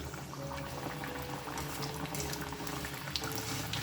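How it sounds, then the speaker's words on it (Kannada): Fenugreek-leaf and roasted chickpea fritters deep-fry in hot oil over a medium flame, giving a steady, close bubbling sizzle with fine crackles throughout. "ಸೊ ಇದನ್ನು ನಿಧಾನಕ್ಕೆ ಮೀಡಿಯಮ್ ಫ್ಲೇಮಲ್ಲಿ ಕರ್ಕೋಬೇಕು"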